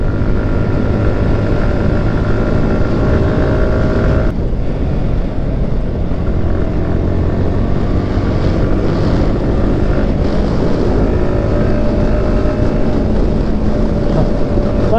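Bajaj Pulsar NS125 motorcycle racing on a road, a loud continuous engine roar buried in heavy wind buffeting against the microphone, steady throughout with no talk.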